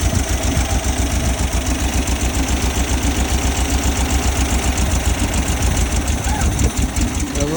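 A 1970 VW Bug engine idles loud and close, a steady, rhythmic, slightly uneven chugging that runs without a break from start to finish.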